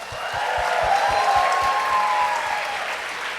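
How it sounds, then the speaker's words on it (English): An audience at the Rangila 25 event applauds Studio Rangila SAS, a group of instrumentalists and vocalists, with dense, sustained clapping that swells and then slowly tapers. "let's give it another round of applause for them."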